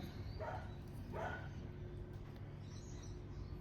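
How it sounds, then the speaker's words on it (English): A dog barks twice in a neighbouring backyard, faint and distant, the two short barks spaced about a second apart over a constant low hum of background noise. "the dog over the backyard has started to bark"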